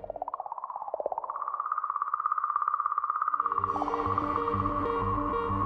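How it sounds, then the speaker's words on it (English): A sped-up recording of comet 67P's song: a wavering, eerie whistle-like tone that glides and holds steady, later joined by a low rumbling drone and a higher shimmer. "So now you can hear the eerie, whistle-like song of 67P, singing comet"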